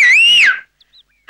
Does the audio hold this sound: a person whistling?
yes